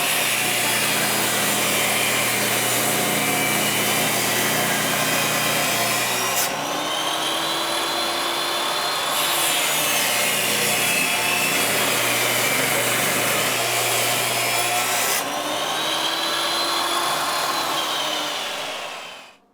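Power table saw rips a wood strip for a floor transition, a loud continuous whine and rasp through the cut, dipping briefly twice between passes, then spinning down at the end.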